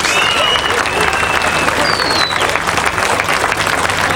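Loud, dense applause from a crowd at a British strongman competition in 1988, continuous clapping filling the space with a few whistles cutting through, steady throughout.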